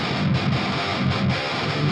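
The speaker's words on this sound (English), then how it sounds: "with the bus processing off, this is what the guitars sound like" Heavily distorted metal guitars with the bus processing switched off, a dense, steady wall of saturated midrange with rhythmic low chugs pulsing beneath, loud and upfront with no voices.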